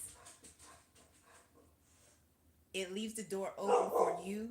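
A pet dog indoors barks loudly and repeatedly at someone outside, sharp close barks that burst in after a stretch of quiet speech and overlap someone talking.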